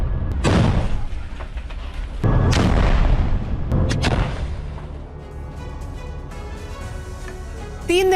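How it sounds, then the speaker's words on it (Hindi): Heavy blasts from Israeli forces demolishing a Hamas tunnel in Gaza City, several deep booming explosions with rumbling aftermath, loud and close, no talk. "बड़ा विस्फोट।"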